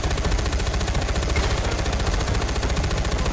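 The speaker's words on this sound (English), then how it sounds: "I just fucking shot randomly at him" Rapid automatic gunfire rattles continuously from a Far Cry shootout, loud and close, with dense repeated shots and no pause across the few seconds.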